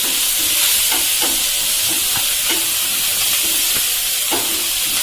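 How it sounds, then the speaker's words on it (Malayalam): Ginger, garlic, curry leaves and green chili sautéing in hot oil in a pan, a loud continuous sizzle broken by repeated scrapes and knocks of stirring, with no talking. "അതിനുശേഷം ഇഞ്ചി, വെളുത്തുള്ളി, കറിവേപ്പില ഇത്രയും ഇട്ടിട്ട് പച്ചമുളക്"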